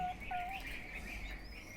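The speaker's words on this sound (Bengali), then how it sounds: "এখানে ঘুঘুর বাচ্চার সাথে হচ্ছে এই ঘুঘু বসে আছে।" Diamond doves and their chicks at a nest give a few faint, thin whistled chirps over a steady background hiss, with no other sound around them.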